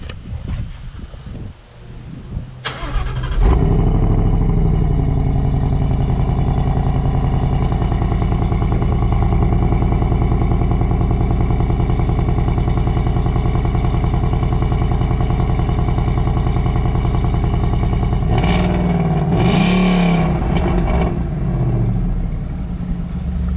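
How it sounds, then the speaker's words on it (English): Car with stock exhaust, before a Corsa/MBRP cat-back exhaust swap, cold-started: a cranking whine catches into a loud, steady high idle that drones on close by, with a brief rev-like rise near the end. "I'm gonna see if it's a cold start."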